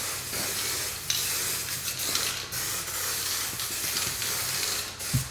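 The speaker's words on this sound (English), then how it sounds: "we're just applying the guide coat, which you've seen before, the aerosol matte black paint there" Aerosol can of matte black paint spraying a light guide coat onto vehicle bodywork in a workshop, a continuous close hiss with brief breaks and no talk.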